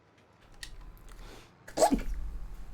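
A single sharp human sneeze bursts out near the mic during a relaxed Farming Simulator 2022 gaming session, preceded by faint breathy sounds and low background hum.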